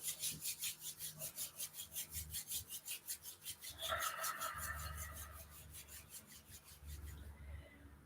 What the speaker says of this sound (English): Bring your hands together in front of your heart center and rub the palms one more time.